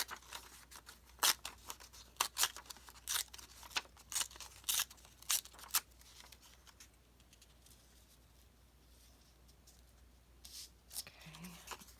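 Paper is cut and torn around a picture of a little girl in a craft project, with sharp separate snips and rips in quick irregular bursts, then a quieter stretch with faint handling.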